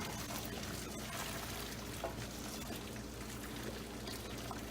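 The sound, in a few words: draining pasta water into a colander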